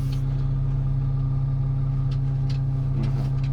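A heavy diesel engine of a YTO LX 1404-A tractor reversing at 1750 rpm runs at a steady, elevated speed with a constant low hum, plus a few faint clicks and knocks in the background.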